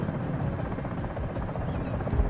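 A Comanche helicopter in a VR flight game, its rotor sending out a steady, dense rumbling whir with a faint rhythmic chop that stays loud and constant throughout, with no speech.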